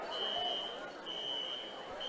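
A fire alarm going off in a gym during a varsity boys basketball game, a steady electronic buzzing tone sounding in bursts under the low murmur of a crowd and nearby talk.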